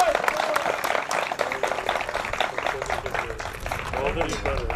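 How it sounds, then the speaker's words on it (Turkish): A crowd at an equestrian endurance race ceremony applauds in a continuous clatter of hands, with voices and some background commotion mixed underneath. "kuvvetli bir alkış alalım mı?"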